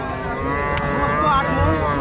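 A cow gives a low, drawn-out moo close by at a livestock market, with a murmur of crowd noise around it.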